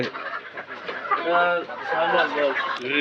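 Chickens clucking at a small poultry farm raising about eighty laying hens in Bhurungamari, Bangladesh, the birds' calls running close and continuous while people talk over them.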